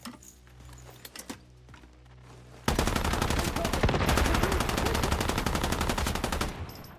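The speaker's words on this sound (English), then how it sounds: "Alright, let's use the LMG again." A light machine gun in the Once Human video game opens up in one long, loud, rapid sustained burst after a few quieter clicks and handling sounds, hammering on steadily until it cuts off near the end.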